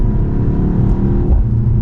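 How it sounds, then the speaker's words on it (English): A 2024 BMW X2 M35i's four-cylinder exhaust gurgles and burbles steadily in second gear, a loud, close, continuous low rumble throughout without any voices. "some of the gurgles in that exhaust"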